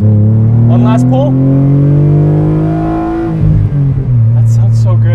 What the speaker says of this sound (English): downshift, downshift, one last pull